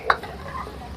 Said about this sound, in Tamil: இப்போ இந்த மரக்கறியை சேர்த்து கலந்து விடுவோம்.